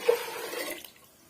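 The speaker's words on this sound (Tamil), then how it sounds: "நானே மொத்தமாக வந்து ஆறு கப் அளவுக்கு தண்ணி சேர்த்துக்கிறேன்" Water is poured into a pressure cooker for a Ven Pongal dish: a short, soft, splashing rush of liquid that fades within about a second, close but quiet with no talking.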